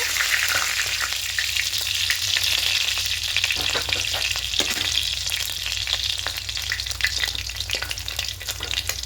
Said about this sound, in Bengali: লাল করে ভেজে নিচ্ছি, তুলে নেব।